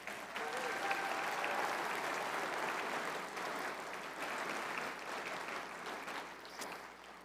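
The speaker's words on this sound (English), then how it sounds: "please give them one more big round of applause." Sustained applause from a large conference audience at a petroleum industry event, steady dense clapping that fills the room and tapers slightly toward the end, with no speech over it.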